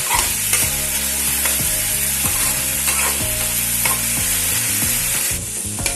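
Turmeric and spices sizzle steadily in hot oil, a close, dense frying hiss with light stirring throughout, over a soft musical backing.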